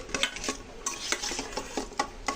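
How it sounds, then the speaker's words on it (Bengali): Hilsa fish pieces, already salted, being rubbed and mixed with turmeric by hand in a bowl, giving close, soft wet squelches and scrapes in an irregular rhythm with no talk. "হলুদ দিয়ে মাছগুলো মেখে নেব।"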